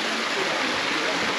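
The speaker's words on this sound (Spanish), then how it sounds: "Con otra cascada." A small waterfall spills into a farm pond in Puerto Rico, giving a steady, close, broadband rush of falling water with no break.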